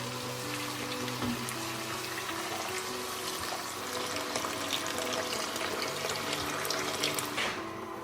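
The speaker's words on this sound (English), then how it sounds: "I'm going to add some vegetable stock" Vegetable stock made from powder and water is poured into a pan of vegan gravy, a continuous close liquid splash and trickle with faint kitchen clatter and no talk.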